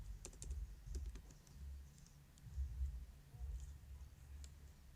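Quick, light keystrokes on a computer keyboard while entering MATLAB code, a steady irregular patter of close, soft clicks over a low background hum, with no speech.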